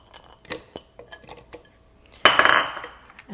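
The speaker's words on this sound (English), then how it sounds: "Same thing with the Nutribullet. Add some ice." Ice cubes tumble into a personal blender cup, a few light clinks first, then a loud, dense clatter as a handful drops in together, close by.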